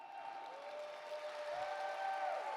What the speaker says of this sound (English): That is a terrible round of applause.